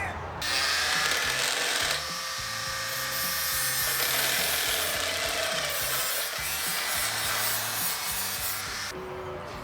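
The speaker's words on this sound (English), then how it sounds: "So I drilled these out to a 3/4 inch" Power drill boring holes through a custom steel subframe for a Miata with a VQ engine swap, a steady loud whirring grind with uneven pitch wobble running nearly throughout, no talk.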